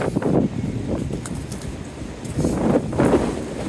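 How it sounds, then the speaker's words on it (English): Cold, gusty wind buffeting a microphone at the top of a climb on the Appalachian Trail, uneven rushing bursts swelling and easing over a few seconds, close and moderately loud with no speech. "It's very windy, it's very cold."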